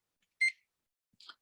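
A 20-minute timer alarm going off: two short, quiet electronic beep bursts about a second apart in an otherwise silent room.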